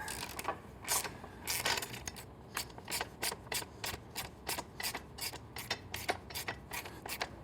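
A ratchet wrench driving an 8mm Allen hex bit to loosen a motorcycle exhaust bolt on a Triumph Street, quick quiet clicking bursts in an uneven rhythm, close and faint, with no voices.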